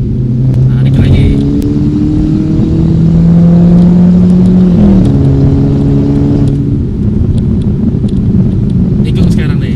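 A car engine hums steadily and loudly, its pitch rising as it accelerates, with wind rumble throughout and a voice talking over it.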